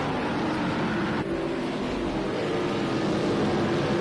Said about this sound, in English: Can you hear the engines all right?